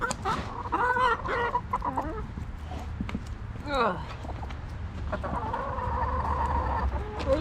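Backyard hens cluck and squawk close by in a busy, overlapping chorus, with a person talking briefly amid the birds and some outdoor background noise.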